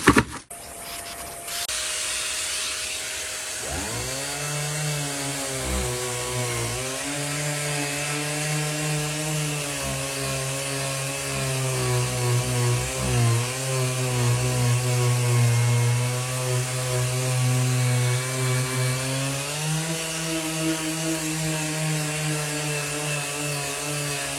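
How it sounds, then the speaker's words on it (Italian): A vacuum cleaner motor starts with a thump and settles into a loud, steady whine with a strong hum. The pitch wavers as the suction load changes, and no one speaks. "Vediamo adesso con l'aspirapolvere come funziona."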